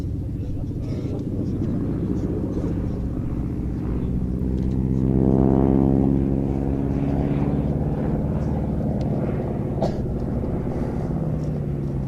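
A propeller aircraft makes a slow speed pass with a wing walker out on the lower wing at an aviation display, a steady engine drone that swells toward the middle and then eases off.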